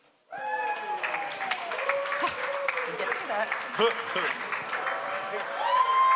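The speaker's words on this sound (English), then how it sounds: "Round of applause." Audience members at a sports awards ceremony applaud an honoree, steady clapping mixed with cheering, whistles and overlapping voices throughout.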